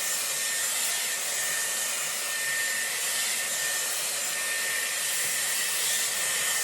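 Dyson Airwrap hair styler blowing air while drying hair roots, a steady, even high-pitched whoosh running unbroken from start to finish with no talking.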